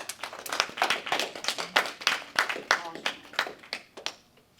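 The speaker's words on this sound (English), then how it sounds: "let's just give another round of applause for Nick DeMint." A small awards ceremony audience claps in a round of applause, distinct individual claps close by with a fairly quick, uneven rhythm that thins out toward the end.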